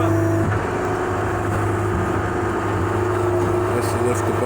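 Posi-Track VT-70 skid-steer loader raising its bucket, a loud steady diesel engine drone with a hydraulic tone shifting under a voice talking close by.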